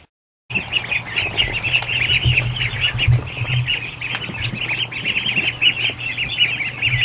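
Hundreds of ducklings crowd a barn, a dense, continuous chorus of high peeping and cheeping held close and steady, with faint rustling and low background hum beneath.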